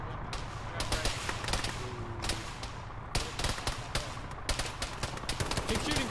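Gunfire rings out in a military Arma battle, sharp single shots and short bursts cracking at irregular intervals over a steady low rumble, moderately distant, with voices talking in between.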